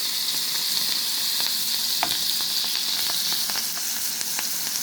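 A final batch of sliced onions fries in oil for mujadara, a dense, even sizzle holding steady throughout with faint scattered pops and light stirring clicks, close up and continuous.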